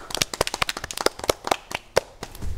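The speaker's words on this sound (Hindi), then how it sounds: "तो इनके लिए भी तालियां बजा दो सर" A small audience claps for a child's poem about butterflies, a run of sharp, close, uneven hand claps with a few louder strikes that thins out at the end.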